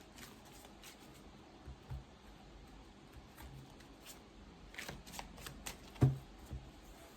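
Tarot cards are shuffled close by in quiet, soft riffling bursts that build toward a sharper flurry near the end, with no talking.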